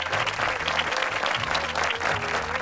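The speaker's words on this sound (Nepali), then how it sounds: "कोचको निमित्त जोरदार ताली एकपटक" An audience claps for a coach in a dense, sustained round of applause that runs loud and steady throughout the short clip, close and without talk over it.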